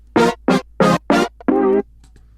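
A music production beat plays straight quarter-note chord hits: four short evenly spaced stabs followed by one longer sustained chord, loud and alone with no talking.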